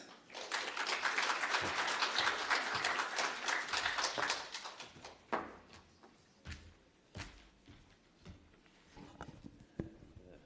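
An audience at a broadcast and digital media convention applauds for the president of the Southern Africa Broadcasting Association, a dense round of clapping that thins after about five seconds into scattered claps and footsteps.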